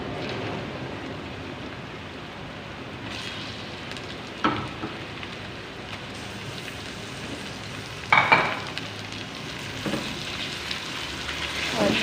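Chicken sizzles and fries steadily in garlic ginger paste for black pepper chicken, a continuous moderate crackle with a few louder stirring scrapes along the way.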